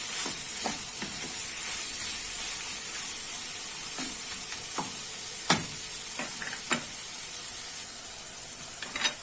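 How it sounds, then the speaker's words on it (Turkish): Tomatoes sautéing with salt and black pepper in a pan for hünkar beğendi, giving a steady, close sizzle and hiss with occasional soft clicks and scrapes of stirring throughout. "Şimdi domateslerimi biraz kavuracağım."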